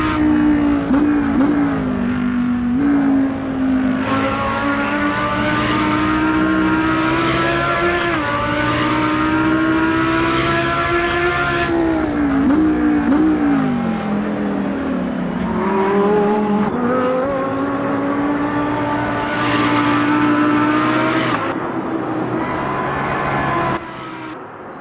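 GT3 race car engines howl through a race at Silverstone in the Automobilista 2 sim, the engine revving up and down through gear shifts, loud and continuous with pitch sweeps and brief drops for braking.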